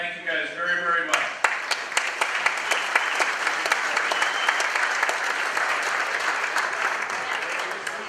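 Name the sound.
audience applause for event sponsors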